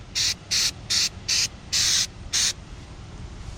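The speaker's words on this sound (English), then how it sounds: "get it all wet, and use a spray" Six short, sharp spray bursts in a steady rhythm, each a bright hiss from a spray bottle wetting a garage door to remove blacktop sealer, close by, then a quiet background.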